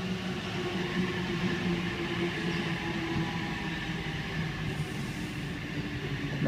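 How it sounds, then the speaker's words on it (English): A Sydney passenger train arriving at a platform at Doonside station rumbles steadily along the rails nearby, a constant mechanical hum with faint clatter, continuous for several seconds without talking. "Emu Plains service, arriving into platform number 4."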